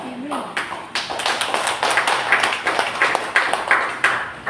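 A church congregation applauds in a run of uneven claps over a few seconds, fairly close, with a voice speaking briefly at the start.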